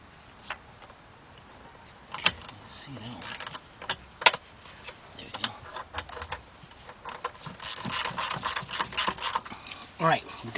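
A 1/4-inch drive ratchet with a 4-inch extension starts bolts on a Chrysler-group vehicle. Close, quiet clicking and mechanical rattles come in scattered bursts, growing busier toward the end.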